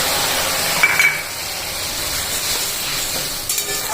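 Spices are tipped into onions already fried in a pan, raising a steady, close sizzling hiss that runs throughout with no voices.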